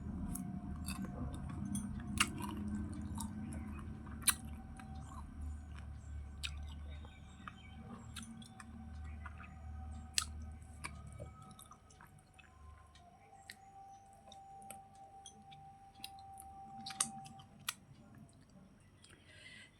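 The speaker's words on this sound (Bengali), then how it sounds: "এই মাছের মাথা খেলে আমাকে বুদ্ধি বাড়ে" Someone eats a fish head at a home lunch, with close, wet chewing, squishing and sharp crunchy bites that repeat unevenly through the whole stretch, over a low background hum with no talk.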